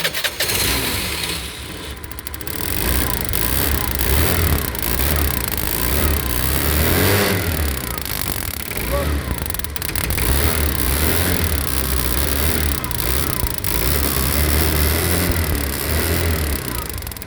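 A scooter engine starts and runs roughly, revving unevenly with sharp popping backfire bursts and crackles throughout, close and loud.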